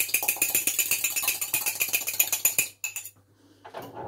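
A whisk beats cupcake batter in a bowl with a quick, even rhythm of clinking strokes, close and bright, which stops abruptly near the end, followed by a brief faint clatter.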